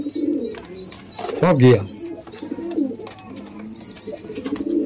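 Domestic pigeons coo nearby with a rolling, throaty call that swells in the middle, set among chirps and ambient noise while people talk over it.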